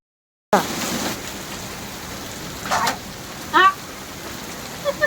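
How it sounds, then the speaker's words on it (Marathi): Heavy unseasonal rain pours down in a steady, hissing wash, with occasional sharper hits from falling hail and a few faint voices. "धुमधडाक्यात पाऊस आलेला आहे आणि त्याचबरोबर बाद गारा पण पडतात"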